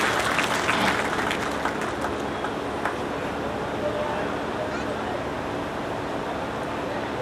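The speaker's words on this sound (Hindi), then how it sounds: "जोरदार ताली सबके लिए।" A huge crowd at an outdoor political rally in Alwar claps loudly and continuously, the applause strongest at first and then settling into a steady roar with a background hum of crowd noise.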